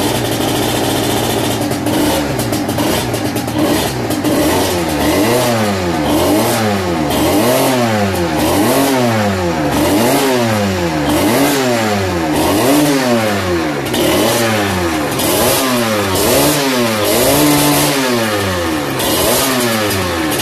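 A 94cc Big Evo AM6 motorcycle engine on a test ride revs up and down in repeated rising and falling sweeps, loud and close, with no speech over the engine.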